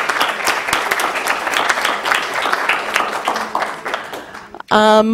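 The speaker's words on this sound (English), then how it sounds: "So if you would please applaud with me those volunteers" Audience applause honoring festival volunteers at an arts festival, sustained crowd clapping that fills most of the stretch before stopping abruptly as a voice begins speaking.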